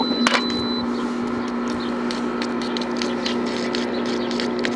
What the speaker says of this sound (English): And then you got to turn the pump back on.